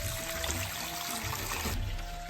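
Water poured into a bread dough mix of flour, yeast, sugar, improver, salt and preservative, a steady close trickle running throughout without pause.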